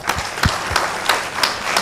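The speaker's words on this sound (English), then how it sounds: "Another round of applause for her." Applause at an Indian panel discussion for a wheelchair shot put and discus silver medalist: a small audience clapping with distinct, rhythmic claps standing out, fairly close.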